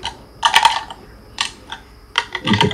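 Game controller buttons click rapidly during play of the Skate 3 skateboarding video game, in several close, crisp bursts separated by short pauses.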